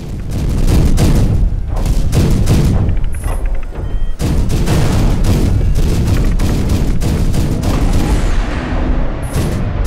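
Rapid bursts of gunfire and booms from the Iron Rebellion VR game on HTC Vive fill the scene, loud and nearly continuous with brief gaps and a couple of high chimes.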